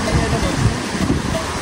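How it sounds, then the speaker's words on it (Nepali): The Myagdi stream, a mountain river, rushes and splashes close by in a continuous broad watery roar with small churning surges. "यो म्याग्डी खोला जुन म्याग्डीसम्म बगेर जान्छ"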